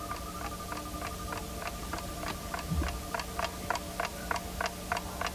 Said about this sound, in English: to listen for the clock and bounce the ticking right into your ears